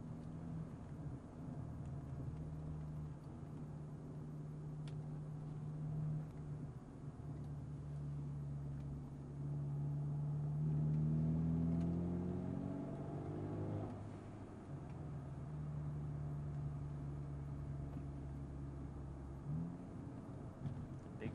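A Mercedes CLA250 drives on a road: a steady, low engine hum with a brief rise in revs midway, heard from inside the car at moderate volume.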